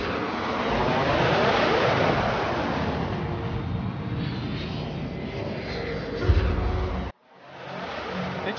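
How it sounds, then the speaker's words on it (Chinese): A military airplane aborts its landing and climbs away, its engines roaring loud and close as a broad, steady drone that slowly shifts in pitch and then cuts off abruptly near the end, with no voices over it. "这飞机怎么在落下又飞走了？"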